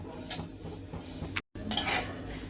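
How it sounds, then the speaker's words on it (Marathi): Sesame seeds being dry-roasted in a pan for a jaggery sweet, with utensil scraping and rustling against the metal in a steady stir that breaks off briefly midway before resuming, close and fairly loud. "हे आपले आता छान तीळ भाजून झालेले आहेत"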